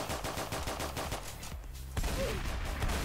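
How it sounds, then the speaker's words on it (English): Shotgun blasts in the Roblox game Prison Life, several quick loud reports in a rapid string, a brief lull, then another heavy shot ringing out over steady game background noise. "Did he just jump in front of my shotgun?"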